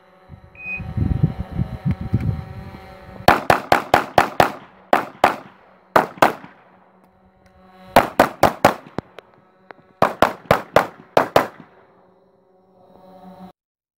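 Pistol shots ring out on an IPSC shooting stage, fired in quick loud bursts of four to six shots separated by short pauses, with echoing reports and faint shuffling at the start.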